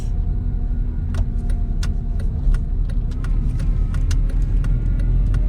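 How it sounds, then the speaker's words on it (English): A manual transmission car pulls away after a left turn, its engine giving a steady low rumble with rising gas and some light clicks and rattles from the cabin, heard close from inside with no talking. "Gonna clutch in, check there's no traffic, clutch up to bite, a little bit of gas."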